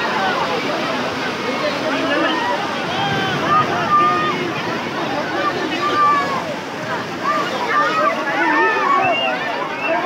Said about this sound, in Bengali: অপরদিকা সমুদ্র সৈকতের একদমই মন মাতানো উত্তাল সমুদ্রের ঢেউ